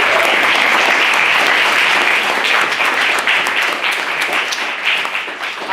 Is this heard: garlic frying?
no